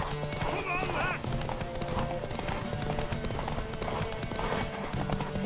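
Horse hooves clip-clopping alongside a high whinny early on, with busy voices and commotion throughout.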